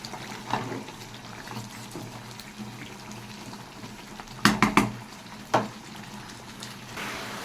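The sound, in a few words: sautéing curry in covered pan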